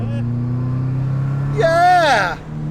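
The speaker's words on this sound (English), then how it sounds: "dude, that intake sounds mean" A Subaru rally car running with no exhaust revs its engine hard, a loud rising intake roar that swells and falls back, over a steady low idle hum.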